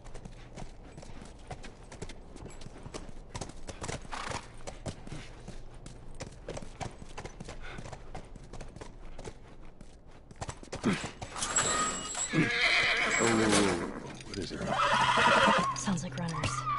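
A horse in The Last of Us video game whinnies and its hooves clop at a walking pace, with ambient game sound early on and a louder burst of neighing and movement near the end, mixed with speech.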